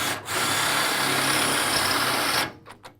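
A cordless drill bores out spot welds in steel car body panels, whining loudly and continuously for about two seconds before stopping, followed by a few faint clicks.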